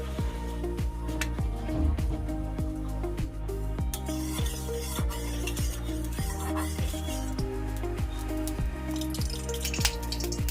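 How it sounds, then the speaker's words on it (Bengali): Hot oil sizzles and ticks in a kadai during luchi and ghugni preparation, with a steady hiss, rhythmic clinks and drips over a low humming tone, close up and without speech. "এবার একটা কড়াইতে তেল দিয়ে দেব।"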